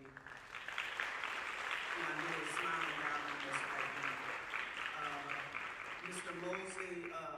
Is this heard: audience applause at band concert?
yes